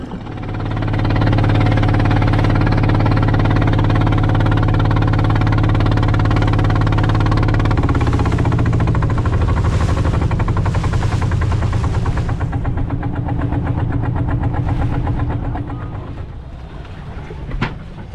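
The engine of a small wooden fishing boat drones loud and steady as it heads back to shore after a diving trip, with strong wind buffeting the microphone and a pitch shift partway through before the noise eases near the end.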